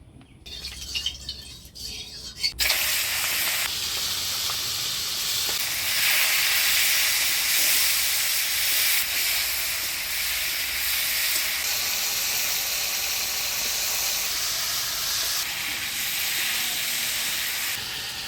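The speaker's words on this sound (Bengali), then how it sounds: "এবার মাছটা ভাজি নিব।" Prawns frying in hot oil for a shrimp and bottle gourd curry, a loud steady broadband sizzle and hiss running almost unbroken after a brief quieter start, with no talking.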